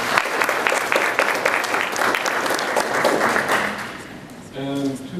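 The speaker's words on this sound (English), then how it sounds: "Let's give him a round of applause." A crowd at a panel discussion on Haiti's recovery applauds steadily for several seconds, the clapping fading out before a voice begins speaking near the end.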